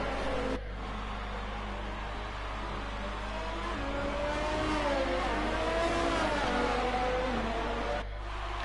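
A turbocharged race car engine revs continuously at close range, with a dense, steady roar that rises and falls slightly in pitch over several seconds and a constant low rumble beneath it.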